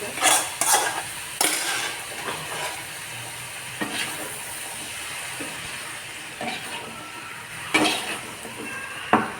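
Cabbage and carrot stir-fried in a pan alongside cauliflower, with a steady soft sizzle broken by several scraping, clattering stirs of the spatula at irregular intervals, close by.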